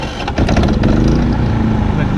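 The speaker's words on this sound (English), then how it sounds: "let's go ahead and fire it up" A Predator 3500 watt inverter generator from Harbor Freight, its engine already warm, starting with a quick push on the run setting: a brief quieter lead-in, then the engine catches and settles into a loud, steady drone.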